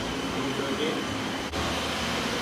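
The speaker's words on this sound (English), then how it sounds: "Sorry about the noise. There's lots of fans in here." Steady broadband whir of many fans running in a plant nursery, a continuous airy drone with a brief dip midway, no talk over it.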